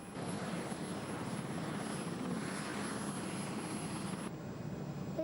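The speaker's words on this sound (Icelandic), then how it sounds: "Það heyrist hátt í þyrlunni." A helicopter carries a four-year-old and his dad in a children's cartoon. A steady, faint rotor and engine drone holds for several seconds with a thin high whine above it, then changes slightly near the end, with no speech.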